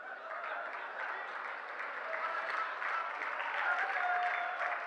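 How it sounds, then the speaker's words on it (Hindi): An audience at a comedy poetry show claps steadily at moderate distance, a soft even patter of many hands holding for several seconds. "तालियां कम बजा रहे हैं"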